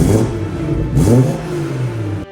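A stock BMW 340i engine revs up twice in quick succession, each blip rising in pitch and settling back to idle, close and loud before cutting off.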